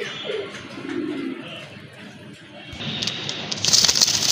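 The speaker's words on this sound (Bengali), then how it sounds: "আরেকটা নর কবুতর, সিঙ্গেল নর কবুতর" At a pigeon seller's, pigeons coo close by in low, rolling calls, a few bursts followed by a quieter stretch, then a sharper, brighter flurry of bird sound near the end.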